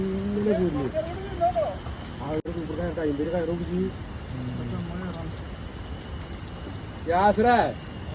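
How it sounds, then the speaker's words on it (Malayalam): Heavy rain pours steadily on a Kerala fishing spot by a bridge, a constant hiss of broadband noise that runs the whole time beneath a man's close, frequent talking. "നല്ല മഴയാണ്"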